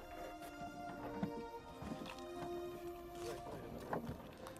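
Oars dip and splash at a steady stroke as a small boat is rowed, soft and fairly distant, with faint knocks between pulls.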